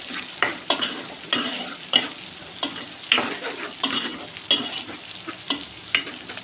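Ground paste for fish curry sautéing in a pan, a steady sizzle broken by repeated scraping stirs at a roughly even rhythm, close and moderately loud with no talking.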